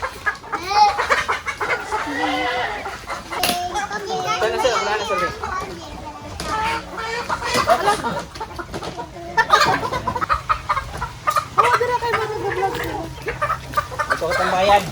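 Heritage chickens clucking and calling at a poultry farm, a busy mix of hens and cackles close by, heard under someone talking and children's voices throughout.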